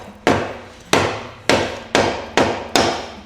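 Six sharp metallic-wooden taps on the old chassis of a TVR sports car, checked for rust with the body removed, struck at a steady pace about half a second apart, close and loud with short ringing decays.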